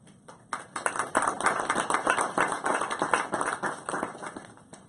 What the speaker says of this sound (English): So please, another round of applause for our panel as they get ready